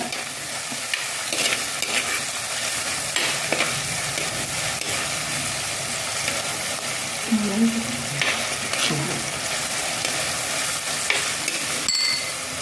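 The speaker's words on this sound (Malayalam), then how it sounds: "അപ്പം നമുക്ക് ഉള്ളിയും വെളുത്തുള്ളിയും തക്കാളിക്കും ഒക്കെ ഇച്ചിരി വാടി വരുന്നുണ്ട്" Onion, garlic and tomato frying in a pan for a Kerala-style fish curry, a continuous close sizzle with intermittent scraping stirs of a spoon and occasional clinks.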